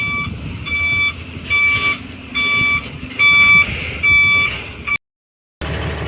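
A truck reverses at a stream crossing near Virapuram, its reverse alarm beeping in a steady repeating rhythm over a low engine rumble. The beeps are fairly loud and close, with a brief dropout near the end.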